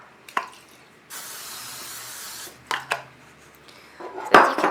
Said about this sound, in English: I'm gonna spray my pan really quick here